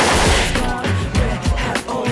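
Rapid gunfire in a TV comedy scene: a loud, dense burst of repeated shots in quick succession, close and continuous for about two seconds.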